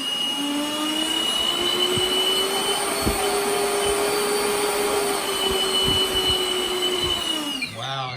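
A radio-controlled A-10 jet fitted with 3D-printed whistles runs steadily at partial throttle, giving a loud, continuous turbine whine with bright sustained whistling tones that rise slightly at first, hold, then spool down near the end.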